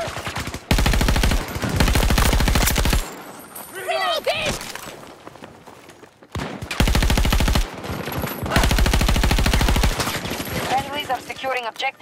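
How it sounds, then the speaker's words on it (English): Automatic gunfire in the video game Battlefield 2042, an M16 in a tactical conquest match, comes in loud sustained bursts with short pauses between them, while voices call out over the shooting. "They're shooting at me!"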